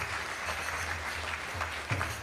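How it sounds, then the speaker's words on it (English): An audience at a Sunday temple program gives a round of applause for the feast sponsors, steady dense clapping throughout, moderately loud and with no talk over it. "So a huge round of applause for them as well."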